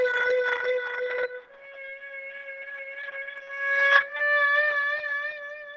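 Chinese bowed string instrument, likely an erhu, sustaining bowed notes with a wide rolling vibrato that wavers the pitch up and down, played solo and clear.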